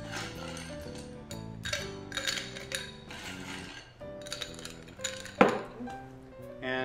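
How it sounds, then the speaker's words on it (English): Ice cubes drop and clink into a highball glass, several close, sharp glassy knocks and rattles over a background of steady music. "and we're going to add some ice."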